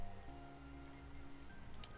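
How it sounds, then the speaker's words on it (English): Steady rain falls in a video game scene, an even hiss of drops with a low tonal background hum and no speech. "I can't see it well in the rain."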